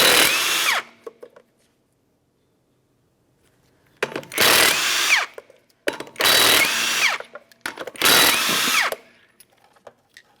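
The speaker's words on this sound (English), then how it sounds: "Remove all 4 of your 19mm lug nuts" An impact wrench or power drill zips in bursts, loosening 19mm lug nuts from the front wheel of a 1994–1997 Honda Accord, first one burst, then a pause, then three close loud whirring runs separated by short gaps.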